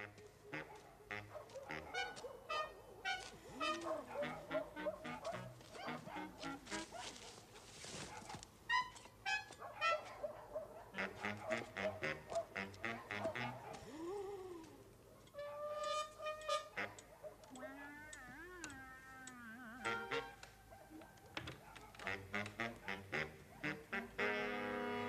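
Ducks quack and geese honk loudly in a continuous, overlapping chorus of nasal calls, dense and near throughout with only brief lulls.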